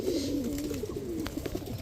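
Pigeons cooing close by, soft low rolling coos repeating over a faint background hum, no talking.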